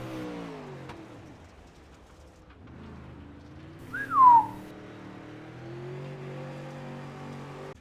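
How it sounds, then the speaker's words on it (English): Pro late model race car on the Volusia dirt track locking its brakes, a brief sharp descending squeal cutting above a steady engine drone, loud and close for under a second. "You really hear the brakes lock up on this one."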